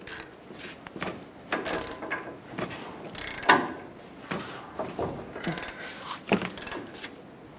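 Wrench tightening the Pitman arm mounting nut on a Ford E-350, a string of quick ratcheting clicks and metallic knocks in short bursts, close and fairly quiet.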